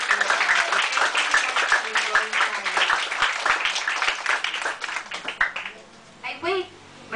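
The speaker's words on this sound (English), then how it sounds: "pwede ba tayong magbigay ng best clap offering kay Lord?" A church congregation clapping enthusiastically, a crowd of sharp, rhythmic hand claps building into loud applause before fading, with voices and cheering mixed in near the end.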